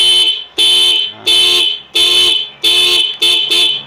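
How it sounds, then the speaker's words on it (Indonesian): A Toyota Avanza car horn driven by a motorcycle alarm module, sounding in six loud, repeated blasts with short gaps between them, close by. A voice speaks briefly. "jadi dia pakai dengan klakson, ini."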